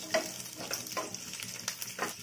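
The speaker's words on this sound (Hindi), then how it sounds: "और अब डाल देंगे हरी मिर्च और लहसुन, इसे भी थोड़ा सा इस तरीके से हम हिला देंगे" Green chillies and garlic fry in hot oil with cumin, a soft close sizzle broken by several stirring scrapes and pops, with no talking.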